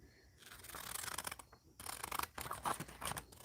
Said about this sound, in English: So I'm going to cut off the top.